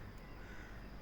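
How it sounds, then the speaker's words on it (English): Outdoors under an open sky, a single faint crow-like caw rises from a quiet, distant background. "Do you hear the birds?"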